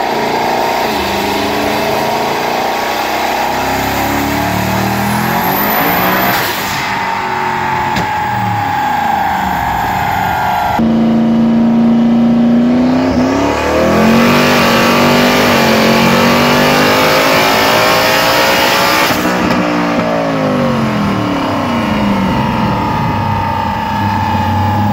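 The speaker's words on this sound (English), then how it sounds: "So here's that video so you can enjoy some turbo whooshing sounds." A turbocharged Coyote V8 making over 1200 hp in a Ford Fairmont roars steadily on a dyno, with loud rising and falling revs and sharp turbo whooshes and spool whistles, continuous and close throughout.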